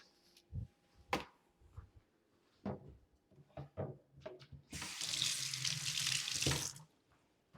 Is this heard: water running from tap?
yes